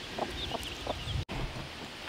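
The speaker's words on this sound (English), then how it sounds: "She's one of our Murray McMurray hens." A Murray McMurray hen on a farm gives a few short, close clucks in the first second, then falls mostly quiet.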